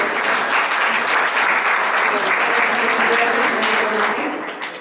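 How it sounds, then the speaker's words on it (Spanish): A roomful of people applaud warmly and continuously, loud and dense, tapering slightly at the end. "Un fuerte aplauso para la intervención de la licenciada"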